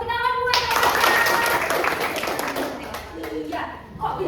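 Primary school pupils in a civics class applaud a classmate for answering, a burst of brisk, overlapping handclaps rising after a teacher's voice and fading under chatter.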